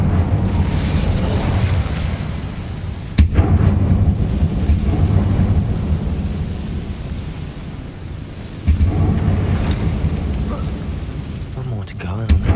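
Incendio fire spell cast in the video game Hogwarts Legacy: two sudden loud booming fire blasts over a steady, rumbling game ambience that fills the whole stretch.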